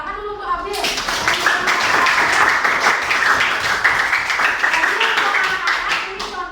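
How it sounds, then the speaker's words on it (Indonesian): Classroom clapping for a student, a loud, fairly close burst of many hands with individual claps distinct, with a teacher's voice heard before and after. "Tepuk tangan dulu untuk Abil."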